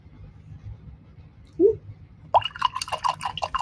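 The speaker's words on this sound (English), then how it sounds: "And rinse my brush." A paintbrush is swished and rinsed in a small container of water while painting craft tags, giving a brief soft splash followed by a cluster of light dripping, clinking watery sounds close by in a quiet room.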